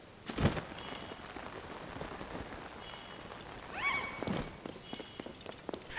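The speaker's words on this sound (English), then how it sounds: "It's raining outside, okay?" Rain falling in Zelda: Tears of the Kingdom, a quiet, even patter that runs throughout, broken by a few soft thuds and brief tonal blips from the game.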